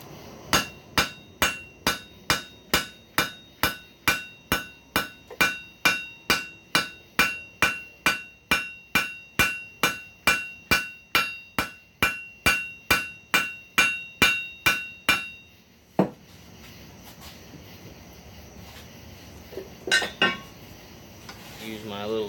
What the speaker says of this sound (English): I'm going to take the cross peen and I'm going to start spreading this